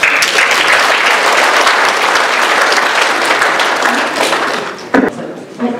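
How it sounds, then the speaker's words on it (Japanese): Sustained applause from the audience at a neighborhood elders' celebration in Araya district, with steady, full clapping for about five seconds before it tapers off near the end. "皆さん拍手で"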